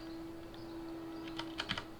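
Keybinds being set on a computer keyboard for the game Angband: a quick cluster of light key clicks comes near the end over a steady electronic hum.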